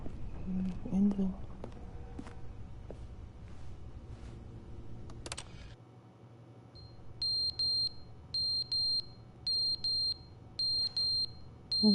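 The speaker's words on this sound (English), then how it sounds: "Why are you beeping?" A repeated electronic alarm in a video game beeps in regular short pulses, about six in a row, clear and steady after a stretch of game sound and talk.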